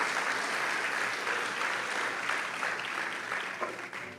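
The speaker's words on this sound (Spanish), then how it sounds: "Así es que sí, dele un aplauso fuerte al Señor" A crowd applauds steadily and loudly, a dense wash of clapping that tapers slightly toward the end.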